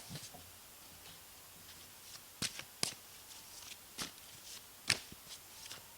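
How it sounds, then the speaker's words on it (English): Quiet, intermittent riffling and snapping of tarot cards being shuffled by hand, several soft bursts spaced irregularly in a calm room. "Shuffle, shuffle, shuffle."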